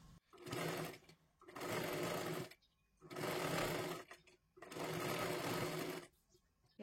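A sewing machine stitching a katori blouse in four long, steady whirring runs separated by short pauses, close and fairly loud, with a person speaking alongside.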